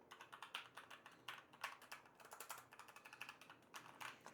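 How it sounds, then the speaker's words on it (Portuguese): A backlit mechanical Logitech keyboard clicks away under steady typing, with a quick, uneven stream of light key clacks heard close but faint. "Ele é um teclado retroiluminado, mecânico, tem um clique, não é dos mais barulhentos, não sei se dá para ouvir, olha."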